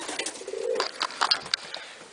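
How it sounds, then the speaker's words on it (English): A tame racing pigeon cooing close by, a few soft throaty coos with light rustling over about two seconds. "This is a very tame pigeon"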